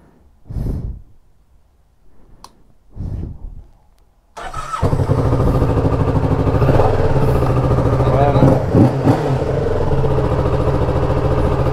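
A motorcycle engine cranks and catches after a few breathy sputters, then settles into a loud, steady close idle that runs on with slight revving.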